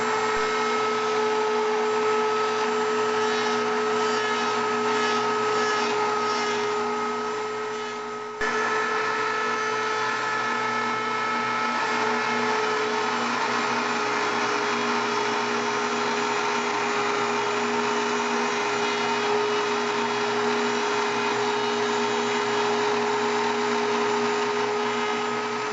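A power tool runs with a steady, loud, high-pitched whine while cutting along a wood edge, briefly dropping at one point before carrying on unbroken.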